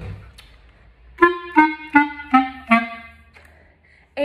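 Five short, detached clarinet notes sound in a steady, evenly spaced row during a warm-up staccato exercise, each note clipped short with brief silence between, close and clear, with a quieter tone trailing at the end.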